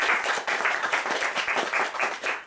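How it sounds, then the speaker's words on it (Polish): Audience applause at an evening author meeting in Łódź, a dense burst of many hands clapping close and fairly loud, steady for the whole stretch with a slight fade at the end. "wielkie brawa"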